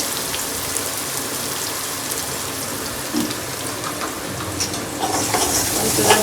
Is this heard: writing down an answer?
no